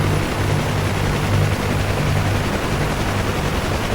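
A helicopter in the flight simulator DCS lifts and taxis, giving a loud, steady rotor and engine drone with a low throbbing hum that holds evenly throughout, with no voices.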